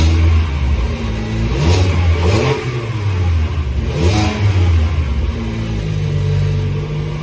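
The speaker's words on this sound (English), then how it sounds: "it also comes with a Sport Tune exhaust," A 2021 Toyota Corolla Apex Edition with its factory Sport Tune exhaust, revved repeatedly and loudly at close range with no talk, its note rising and falling in several swells.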